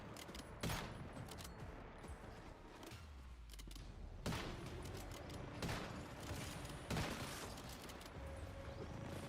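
Gunfire from weapons in the survival shooter Once Human, fired at an enemy during a hard-server prime war: several sharp shots and short bursts spaced across the span over a steady game ambience, with no talk.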